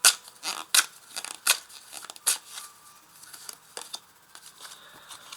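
Oracle cards shuffled by hand on a table: sharp papery flicks and riffles in irregular bursts, loud and close at first, then softer with light rustling between them.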